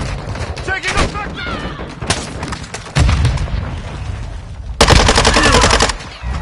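Heavy Call of Duty: Modern Warfare II gunfire comes in loud automatic bursts and booming volleys, with short gaps and radio-style voices between them.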